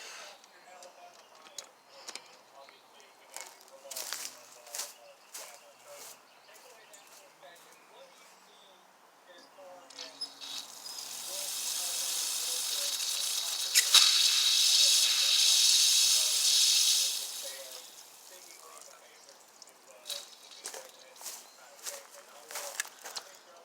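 A King Craft 2400 psi pressure washer with a busted pump hisses loudly and steadily for several seconds once the water is turned on, rising out of quieter ticking and clatter and then dropping away.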